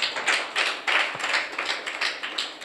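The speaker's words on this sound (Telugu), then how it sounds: "చప్పట్లు కొట్టాలి ఒకసారి అందరూ." A church congregation claps together in a fast, steady rhythm, a dozen or so sharp, bright claps in a row at moderate volume, with no talking over them.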